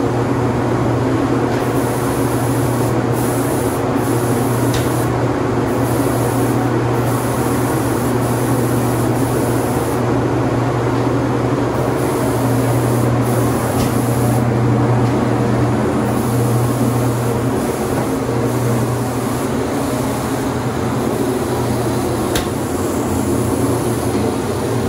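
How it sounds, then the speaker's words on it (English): A Wagner TwinControl spray gun sprays acid catalyst finish onto doors at low pressure, giving a steady, loud hiss with a continuous low equipment hum and no talking. "We're going to go ahead and just spray some doors."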